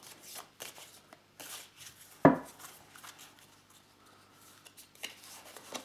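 Tarot cards being shuffled by hand, a soft papery riffle with scattered taps and one sharper slap near the middle, fairly quiet and close, with no talking.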